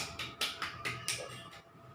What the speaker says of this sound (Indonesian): tepuk tangan dulu untuk kelompok 1, tepuk tangan